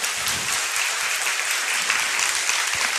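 An audience at a talk with author Téa Obreht on her first visit to Australia gives dense, steady applause for the whole stretch, with no voices over it.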